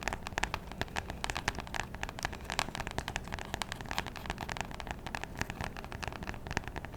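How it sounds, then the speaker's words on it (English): Fingertips tap quickly and continuously on the cardboard back of a pink notebook, a soft, close, rain-like patter of dense, even taps with no voice. "Oh my god, cardboard tapping is my favorite."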